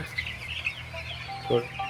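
Broiler chickens cluck at a poultry farm, with a few short calls over a steady low hum and a louder burst near the end.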